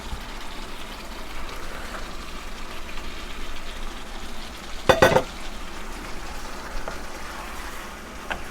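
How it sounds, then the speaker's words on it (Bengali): Salmon pieces sizzle in a pan of softened onions while cooking fish curry do pyaza. A steady hiss of frying continues, broken by a short clatter midway. "এখন আমি মাছ ছেড়ে দেব।"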